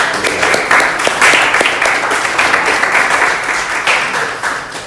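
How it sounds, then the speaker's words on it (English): A live podcast audience gives guests a round of applause, with close, loud, dense clapping that carries on steadily for about five seconds and eases slightly at the end, without talk. "you guys give them a round of applause"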